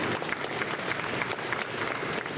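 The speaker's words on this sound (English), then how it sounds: "So a big round of applause to" Audience applause at a boxing press conference, a steady, full wash of clapping from a crowd that holds throughout with no voices over it.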